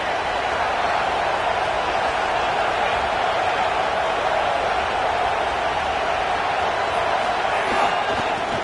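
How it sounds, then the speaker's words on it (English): A stadium crowd in a college football video game roars in a steady, dense wash of cheering that holds at full loudness throughout, with no break and no clear single voices. "This crowd knows when to bring it."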